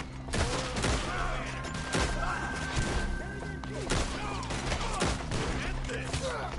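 Rapid gunfire in a shootout in Red Dead Redemption II, with repeated loud shots and crashes going off in quick bursts throughout, while voices shout over the fighting.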